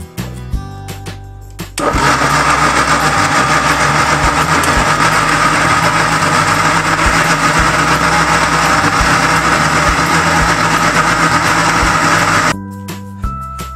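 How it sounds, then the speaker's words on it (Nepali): A kitchen mixer grinder blending cooked apple into jam, its loud steady motor whine starting abruptly, running continuously for about eleven seconds, then cutting off, with no talking. "अब मैले यसलाई ग्राइन्डरमा राख्दैछु धेरै तातो राख्यो भने फेरि ग्राइन्डर पनि बिग्रिन्छ"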